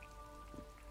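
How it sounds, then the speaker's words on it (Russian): Steady patter of rain in the video game Disco Elysium, a quiet, continuous wash of drops falling outside with no speech over it. "На улице дождик."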